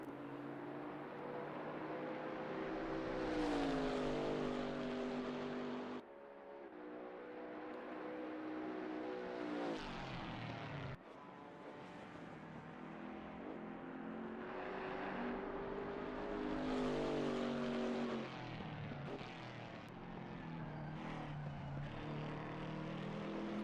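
A Chevrolet Camaro V8 racing around the Nurburburgring GP circuit in a GT4 racing video game, its engine revving up and down through repeated gear changes, loud and continuous with no talk.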